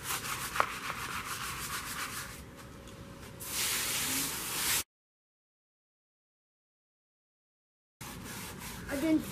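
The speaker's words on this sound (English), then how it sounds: "Okay, you really want to get in there, scrub it hard." A statue being scrubbed hard with Lysol with bleach gives off steady rubbing and scouring strokes, close and fairly loud, broken by a short gap partway through.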